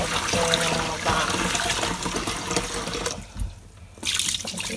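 Tap water runs loudly and splashes while rice is washed in a bowl during home cooking, with a steady gushing stream that briefly cuts out and then resumes, close and alone without speech.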